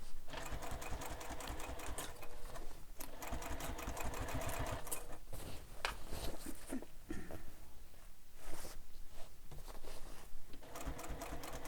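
A domestic sewing machine stitches binding onto a fabric sling pack, with a rapid, rattling mechanical whir in bursts and short pauses, close and fairly quiet, with no talking.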